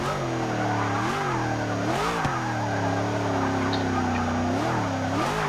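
In the Forza 6 racing game, a van brakes hard from high speed into a stoppie on a runway, its engine tone wavering and dipping with repeated swells alongside tire noise, loud and close throughout.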